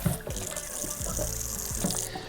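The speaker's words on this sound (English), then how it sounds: "you turn on your water here and you got your sprayer, because I'm spraying water" Water sprays steadily from a kitchen faucet sprayer into a sink, a close, hissing rush with some splashing and clatter underneath.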